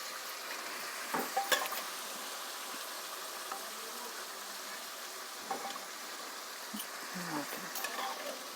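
Goat head pieces fry in a pan over a low flame, giving a faint, steady sizzle with a few soft stirring clinks and scrapes near the start and toward the end.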